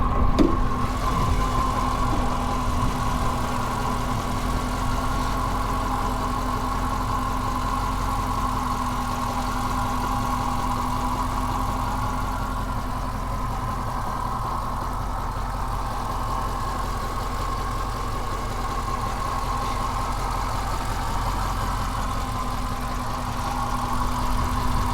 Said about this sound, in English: Has a nice healthy idle,